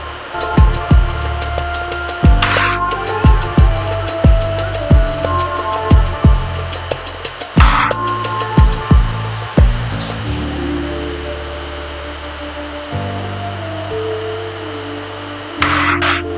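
A milling machine hums steadily while repeated sharp metallic strikes and whirring tones cycle through, with shifting pitches as the tool works.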